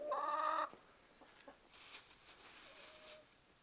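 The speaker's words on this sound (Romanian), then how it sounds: "Cocoșul văd că se distrează cu găinile" A rooster and hens in a yard full of leaves and flowerpots give a short, clear burst of clucking at the start, then faint scratching and rustling follows.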